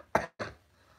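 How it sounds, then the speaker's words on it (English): A person gives two short, breathy coughs in quick succession, close and clear, followed by quiet. "Makes me cough and laugh at the same time."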